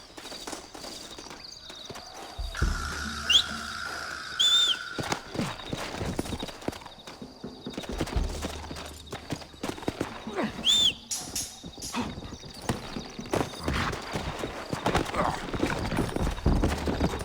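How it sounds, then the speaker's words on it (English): Horses in the Western video game Red Dead Redemption: steady clip-clopping hooves with a couple of short whinnies, set against busy game ambience and scattered impacts. "Looks like Carlos left us some horses"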